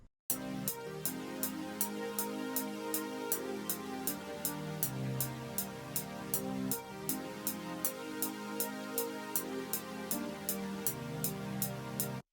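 A Serum synth preset plays a looping electronic pattern in a trap-style beat, with sharp, evenly spaced high transients sitting over sustained low and midrange tones. It runs steadily and fairly quietly, with no talking.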